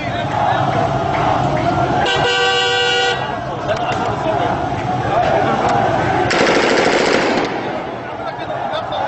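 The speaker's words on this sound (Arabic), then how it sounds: "قوات الأمن تطلق الرصاص الحي على المتظاهرين" Live gunfire from security forces at protesters during a Friday demonstration in Ma'arat al-Numan, Idlib, heard as a loud rapid burst of automatic fire amid crowd noise and shouting, followed by a later harsh noisy burst.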